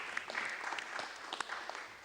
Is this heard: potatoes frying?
no